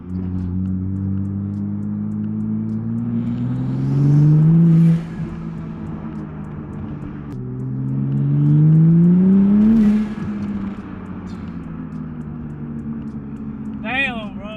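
Car engine revving as it accelerates hard in two long rising surges, loud and close, with a sharp crackle at the end and voices talking in the car.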